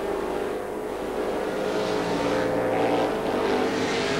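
Formula 5000 racing cars at the 1978 Adelaide 100 accelerating through the gears, a continuous loud, droning engine roar heard from trackside with no talk.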